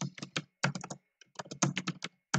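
Typing on a computer keyboard to enter feedback, quick bursts of crisp close key clicks in uneven clusters with brief pauses between them, loud and dry with no voices.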